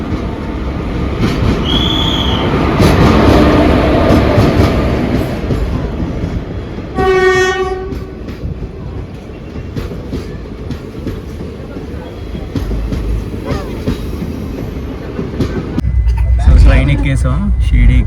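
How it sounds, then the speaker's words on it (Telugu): A passenger train heading to Shirdi rolls along the rails with a steady loud rumble and rattle, a high squeal or horn-like tone rising briefly partway through, and more clatter toward the end. "ట్రైన్ ఎక్కేసాం షిరిడీకి. సో ఎక్కువసేపు ఆలేదు, జస్ట్ 1 minute ఆగింది. లింగంపల్లిలో మూవ్ అయిపోయాం."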